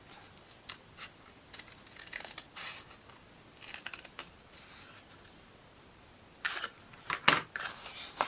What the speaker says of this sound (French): on va prendre le ciseau, on va bien se placer et on va juste couper sur la ligne que l'on a faite